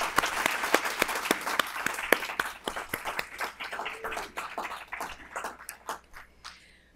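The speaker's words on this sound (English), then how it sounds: "Let's give them a round of applause." An audience applauds award recipients at a VA Northeast Ohio Healthcare System quarterly employee awards ceremony, a burst of dense, steady clapping that gradually thins out and fades over the last seconds.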